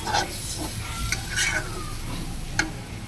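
Spoon scraping and stirring a thick mashed lentil paste frying in a pan, with a soft sizzle underneath and a few sharper clicks, close by.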